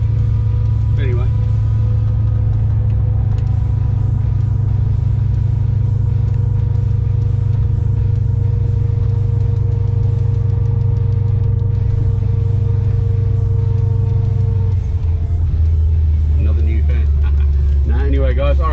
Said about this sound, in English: diff is a little bit noisy, so we're going to have to change that out